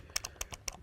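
Keystrokes on a computer keyboard typing a name into an app, a quick run of about seven light, close clicks in an uneven rhythm, alone and fairly quiet.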